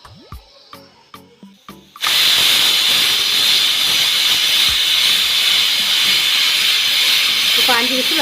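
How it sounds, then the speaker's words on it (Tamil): A pressure cooker on a stove, cooking beef gravy, lets out a loud, sustained steam whistle and hiss that starts abruptly after a few soft clinks and continues steadily to the end. "இப்போ 5 விசில் வந்துருச்சு."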